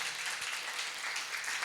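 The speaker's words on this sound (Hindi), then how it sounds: "ताली बजाओ," A church congregation at a couples retreat claps hands together, a brief dense burst of steady applause filling the room.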